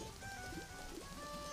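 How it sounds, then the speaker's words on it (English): Steady rain in the Zelda game Majora's Mask, a dense, even hiss of falling drops that fills the whole clip without pause and with no voices. "And yeah, this rain, man."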